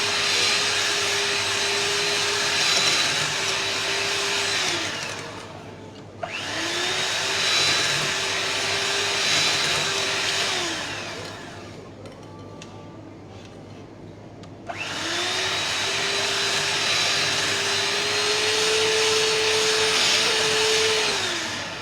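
An electric mixer whirs steadily while beating cookie batter in a bowl: two long runs, a short pause, then a third run, loud and close with no talking.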